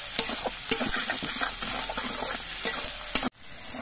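Spice paste sizzling steadily in hot oil in a pan for a pangas fish curry, with sharp spoon-scrape stirring taps throughout, close up, cutting off abruptly near the end.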